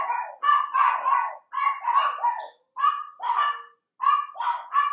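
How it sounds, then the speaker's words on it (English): Dogs barking in a steady series of sharp, close, fairly loud barks with short gaps between bursts, heard on their own without talk. "Oh, here go the dogs."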